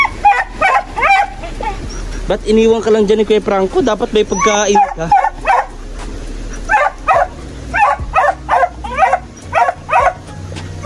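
A dog barks in a series of sharp, close yaps and bow-wows, mostly after someone speaks over the first half of the stretch.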